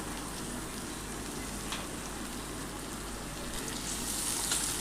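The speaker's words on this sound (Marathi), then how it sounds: "अजून 1-2 मिनटं आपण परतून घेऊया टोमॅटोसोबत." Tomatoes sauté in a pan for rava upma, giving an even, soft, crackling sizzle like light rain that continues throughout, with no voices.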